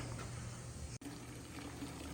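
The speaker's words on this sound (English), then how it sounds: "Got the siphon going pretty good. It's a lot of gas." Gasoline runs steadily through a siphon hose out of a CFMOTO ZForce tank, a continuous close liquid trickle and gush with a brief dropout partway through, no talking.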